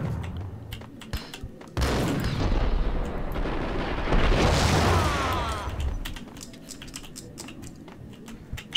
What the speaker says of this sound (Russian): Чёртовы гранаты.